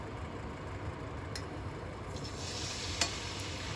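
Continuous sizzle of pork chops frying in a hot pan, a steady crackling hiss with a faint clink of utensils near the end.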